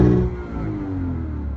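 Lexus RC F V8 engine in Sport Plus mode, heard from the cabin with speaker-enhanced sound: a deep, bassy drone whose pitch slides as the revs change over a brief stretch.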